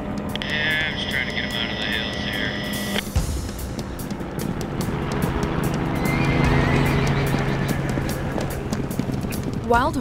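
Wild horses from the American West whinny in a clear high neigh at the start, followed by hoof clip-clops and a passing aircraft drone, with a voice speaking over the scene.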